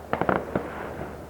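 Fireworks from a big celebration display hidden behind trees crackle at a distance: a quick run of four sharp pops, then one more burst, fading into a faint rumble.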